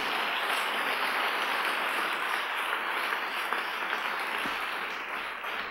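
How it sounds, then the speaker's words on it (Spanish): A congregation applauds inside a church during an evening service, a soft, diffuse and steady patter of many hands that resembles falling rain and tapers slightly near the end. "Vamos, aplauda al Rey de Gloria en esta noche."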